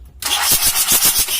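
A 1982 Toyota Hiace LH11 diesel engine cranks after brief silence and catches, its starter and rough combustion pulsing in a steady rhythm of loud, close beats.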